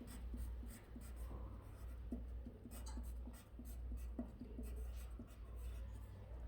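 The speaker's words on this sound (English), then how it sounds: "I want you to start by putting your name on the back of that paper." A pen or pencil scratches steadily across a plain white sheet of paper while someone writes a name on the back. The strokes are close and quiet, with a quick, irregular rhythm of short scrapes and taps.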